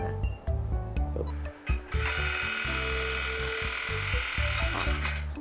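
A JUKI LBH-1790AN buttonhole sewing machine stitching a single buttonhole, with rapid rhythmic mechanical whirring and stop-start bursts of stitching, close and loud, a brief pause midway before a steady run.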